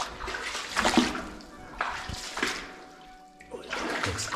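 Water splashes and sloshes through a flooded cave in uneven surges that rise and fade, close and fairly loud, echoing slightly with no voices.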